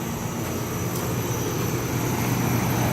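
A brand-new, large Ruud Achiever 2-ton central air conditioner unit at a commercial property runs with a steady, loud mechanical hum and broadband whoosh of the fan, constant throughout with no talk.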